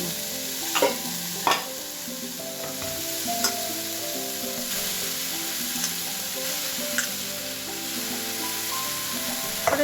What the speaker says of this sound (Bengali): এবার এটাকে খুব ভালো করে কষাতে থাকবে